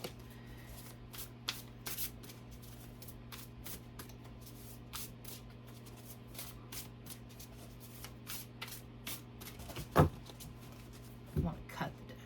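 Shaman's Dream oracle card deck being shuffled by hand, a series of crisp riffling bursts and soft flicks repeating irregularly over a steady low hum, close by, with a couple of louder handling knocks near the end.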